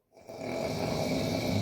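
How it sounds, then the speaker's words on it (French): Someone snores nearby with one sustained, gravelly breath that rises quickly and stays even to the end, soft in level with nothing else audible. "Mon petit ronfle."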